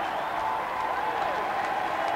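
A large crowd on Whitehall at Downing Street surges toward Tony Blair's car after the 1997 general election, with steady applause and cheering blended into a continuous distant roar.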